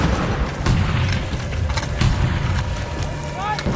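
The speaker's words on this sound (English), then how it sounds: "The artillery barrage covering their advance on Danzig Alley has already moved forward" World War I artillery barrage at the Battle of the Somme: deep, rolling booms of shell explosions, heavy and sustained beneath a narrator's voice.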